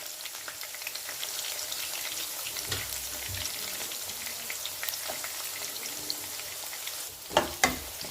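Green chillies and onions fry in a pan for a capsicum masala curry, a steady soft sizzle running throughout with a few louder stirring clinks near the end; no talk.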